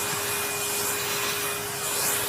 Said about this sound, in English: he loves the Hoover, doesn't he?